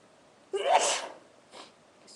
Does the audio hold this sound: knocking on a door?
no